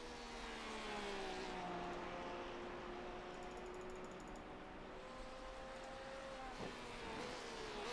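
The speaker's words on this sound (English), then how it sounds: "You can hear these cars, just nice, easy transitions from the brakes to the gas, hitting those apexes." GT3 race car engines in the iRacing video game at Road Atlanta hum steadily at low volume, their pitch rising and falling through gear changes under a hiss of background noise.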